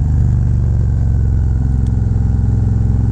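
Harley-Davidson Road Glide motorcycle fitted with a Feuling 465 cam, riding along with a steady, loud, deep engine rumble and a lumpy pulsing exhaust throughout, close up, no voices.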